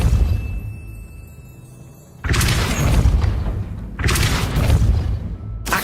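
Depulso force spell blasts from the Hogwarts Legacy video game: two loud, broadband whooshing booms, the first landing near the two-second mark and the second a couple of seconds later, each sustained and rumbling over a quieter ambient bed.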